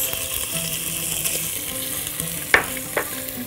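Garlic and celery sizzle steadily in hot oil in a pot, a close continuous frying hiss with a couple of sharp clinks of a utensil near the end.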